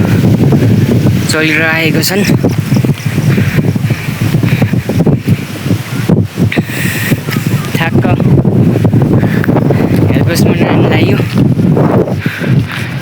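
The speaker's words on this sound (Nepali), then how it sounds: "हावा लास्टै लाग्छ" Strong wind buffets the microphone continuously along the way to a bridge, a loud rumbling roar running throughout while a person talks over it.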